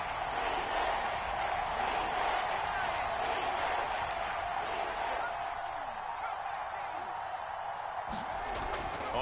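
Seattle Seahawks stadium crowd roar during a red-zone play in the Madden 22 football video game: a dense, steady wash of loud crowd noise throughout, with faint thuds and occasional sharp impacts in the mix.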